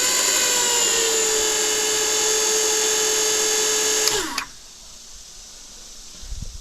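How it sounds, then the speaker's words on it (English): An emergency electric hydraulic pump on an '82 Condor 46 boom lift whines steadily with a high tonal hum, then winds down and cuts off, leaving near silence. "a electric hydraulic pump right here to use for that"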